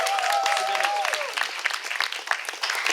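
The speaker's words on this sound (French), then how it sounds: "On applaudit. On applaudit," An audience at a live comedy game show applauds for a team, clapping and cheering loudly as a whistle-like tone fades early, the clapping thinning toward the end.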